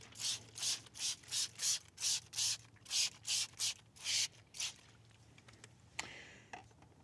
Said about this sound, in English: I'm just going to start by spraying some of the iron remover